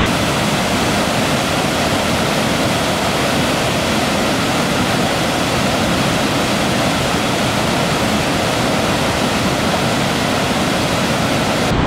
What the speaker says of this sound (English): Oh, it's a waterfall.